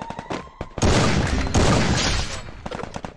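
A burst of loud video game gunfire crackles and booms for about two seconds, surrounded by quieter game sound effects.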